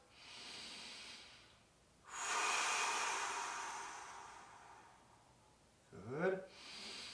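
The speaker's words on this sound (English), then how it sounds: "3 big breaths" Deep, slow breaths sound close up, each a long airy inhale or exhale lasting a couple of seconds, with a quick sniffing intake near the end, during a kneeling stretching workout.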